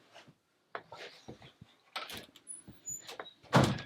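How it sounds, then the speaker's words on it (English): A door in a small new property is opened, with wooden creaks, knocks and rattles in an irregular run ending in a louder clunk, close by in a quiet room. "can you open up that door there?"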